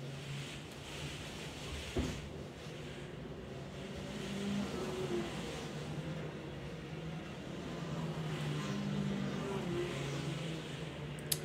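Racing karts circle a club circuit in the rain, engines droning steadily in the middle distance with a continuous hum that swells and fades slightly as they pass.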